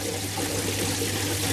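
Water drains steadily from a toilet bowl and a washing machine through a trap, a close, continuous rushing gurgle with a low steady hum underneath.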